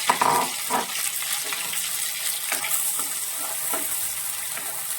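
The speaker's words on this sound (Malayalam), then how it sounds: "ഇഞ്ചിയും അതുപോലെ തന്നെ നമ്മുടെ വെളുത്തുള്ളി രണ്ടും കൂടി ഇട്ട് നന്നായിട്ട് ഈ ചുവന്നുള്ളിയും കൂടി ഇട്ട് നന്നായിട്ട് ഇതൊന്ന് വഴറ്റാണ്" Ginger, garlic and shallots sauté in hot oil for a Kerala-style sardine curry, giving a steady close sizzle broken by several sharp stirring scrapes, with no voices.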